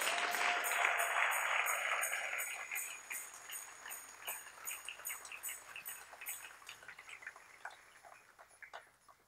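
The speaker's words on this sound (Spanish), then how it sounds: "Denle un aplauso a Cristo que Él vive." A church congregation claps together in sustained applause that begins dense and loud, then thins into scattered, fading claps.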